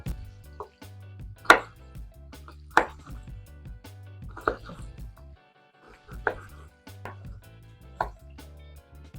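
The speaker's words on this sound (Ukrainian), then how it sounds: "всі остальні інгредієнти ми ріжемо приблизно таким же кубиком." A knife cubes salad ingredients on a board in sparse, separate strokes, with pauses between them and a low hum underneath.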